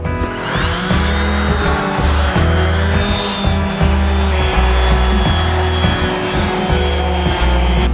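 A power sander works a wooden table top with 120 grit paper, giving a loud, continuous motor whine with a rhythmic low pulsing as the machine moves across the surface, with no talking.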